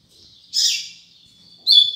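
A male double-collared seedeater kept at home sings two short, bright, high chirping phrases, close and clear, separated by about a second of near silence.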